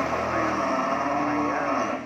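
At a cattle farm, a single long, loud moo from a young bull holds steady for about two seconds, close to the listener and with no talk over it.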